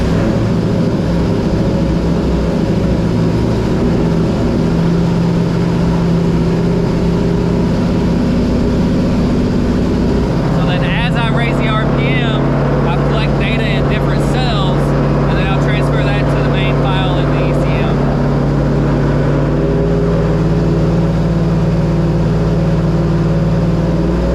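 A 2002 WS6 engine idles loudly, then steps up to a higher steady RPM and holds it during part-throttle tuning, with a raspy layer of engine noise appearing partway through.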